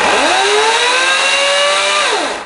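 An EGO 56 volt battery chainsaw revs loud and close, its motor whine rising steeply, holding a steady high pitch through the cut, then winding down at the end.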